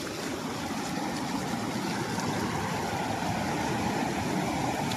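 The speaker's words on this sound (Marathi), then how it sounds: "इथून छोटासा पाणी येतोय" A small trickle of water running over the top of Khaire waterfall, a steady, close rushing and gurgling wash that stays even throughout, with no voices.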